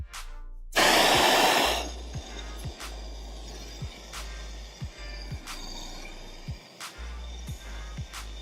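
Torch heating a copper pipe joint for soldering, a loud burst of roaring flame at the start, then a low steady hiss with faint repeated clicks, no talk.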